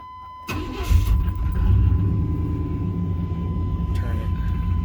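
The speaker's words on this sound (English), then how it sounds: "Go ahead and start the truck." A 1995–98 Chevy C/K Silverado pickup is started: after a brief quiet, the starter cranks and the engine catches with a loud rise, then settles into a steady, close idle with a faint tone running through.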